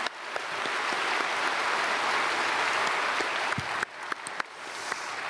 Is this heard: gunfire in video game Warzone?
no